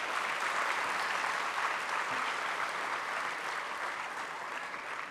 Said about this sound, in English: They need your thunderous applause.